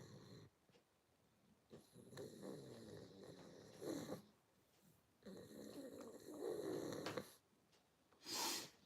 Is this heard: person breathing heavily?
yes